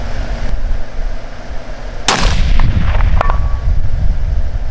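A single sharp rifle shot from a coyote-hunting caliber fired at a target cracks out loud and close at about two seconds, with a short rolling echo trailing off over outdoor background noise.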